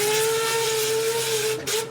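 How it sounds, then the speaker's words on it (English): A single long hoot from a vintage steam roller's whistle sounds loud and steady, tapering off near the end over a background hiss. "With a final hoot on the whistle"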